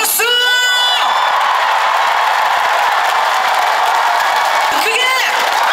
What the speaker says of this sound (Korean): 자, 그런 의미에서 함성과 박수!